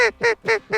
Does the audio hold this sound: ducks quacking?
yes